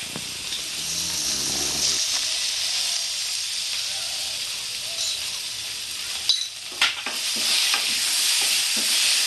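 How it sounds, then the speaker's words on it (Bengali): Boiled papaya and potato pieces being stirred in a hot pan for a Bengali shukto, a steady close sizzle and hiss with soft scraping strokes that grow busier toward the end. "এবার আমি একটা নাড়াচাড়া করবো"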